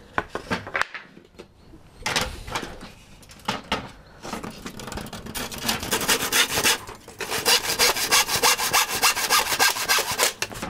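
Hand saw cutting through wood, a steady run of rough back-and-forth rasping strokes that grows louder and denser toward the end, close up with no talking.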